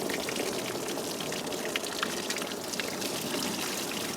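A test medium is poured out of a container to recover a 10mm projectile, making a steady, close, splashing trickle of liquid that runs continuously and fairly loud.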